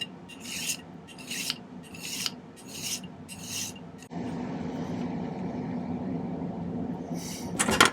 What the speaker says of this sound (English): Do a little bit of cleanup filing on this.